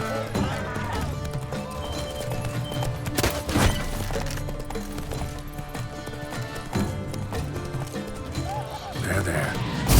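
Roach, Geralt's horse in The Witcher 3, clip-clops along with steady hoofbeats and lets out whinnies, set against game music and ambience, with a sharp crash-like hit near the middle and a voice speaking over it.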